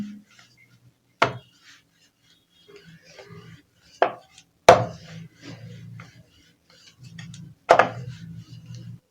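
A rolling pin rumbles across a board in short back-and-forth strokes, rolling out potato-stuffed paratha dough, broken by a few sharp wooden knocks, close by with no talking.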